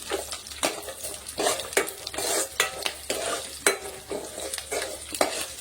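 Garlic cloves sizzling and frying in a pan for a ridged gourd chutney, stirred in repeated bursts of scraping and crackling, close and lively, with a soft steady hiss underneath.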